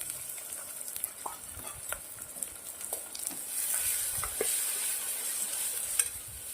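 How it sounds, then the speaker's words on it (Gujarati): Cluster beans frying in oil with ginger, chili and garlic, a soft, steady sizzle with occasional light stirring clicks, fairly quiet and without voices. "બે મિનિટ ગવારને તેલના અંદર સંતરાવા દેશું"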